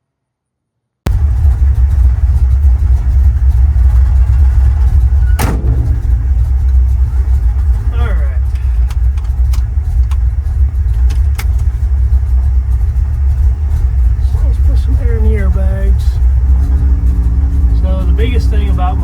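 Engine of a pickup truck riding on freshly swapped front spindles, returned from a 2-inch drop to stock, rumbling steadily at close range, with a sharp clunk midway and brief rising engine sounds later as it pulls away, while a person talks.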